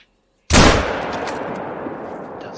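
Gunfire sprays in a video game, starting with a sudden loud blast after a brief silence and continuing as a dense, sustained rattle that slowly fades.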